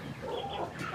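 Farm chickens give a short run of soft clucks at a distance, low and murmuring against faint outdoor noise.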